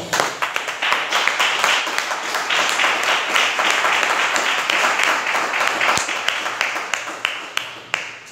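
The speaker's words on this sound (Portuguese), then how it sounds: "Aplauda os céus bem forte" A church congregation claps loudly and steadily for several seconds, a dense, sustained wash of hand claps with a few sharper individual claps standing out near the end.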